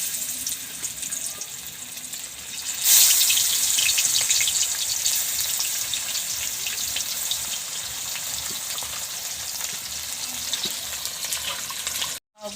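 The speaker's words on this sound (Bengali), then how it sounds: "এখন আমি মাছগুলো ভেজে নেব।" Rohu fish pieces rubbed with salt and turmeric frying in hot oil, a close, steady crackling sizzle that jumps louder a few seconds in, holds with scattered pops, then cuts off abruptly.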